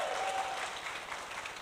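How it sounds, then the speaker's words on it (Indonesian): An audience applauding at a motivational talk, a steady wash of many hands clapping at moderate distance, fairly faint and even throughout. "Kalau mau tepuk tangan lebih meriah nggak apa-apa,"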